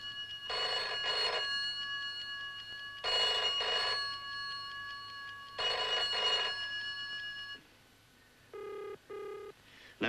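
Old telephone bell rings in repeated double bursts with pauses between, loud and close, followed by a few short softer electronic tones.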